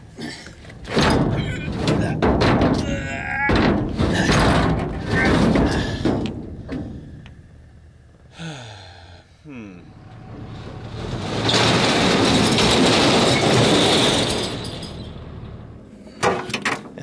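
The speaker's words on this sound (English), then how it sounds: "is the proper way to unload a grapple bucket" A grapple bucket being unloaded, heavy metal thunks and clattering bangs in a rough sequence, with a longer rumbling, scraping stretch partway through and a final knock.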